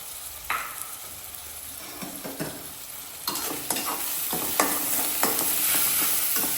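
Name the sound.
onions frying until brown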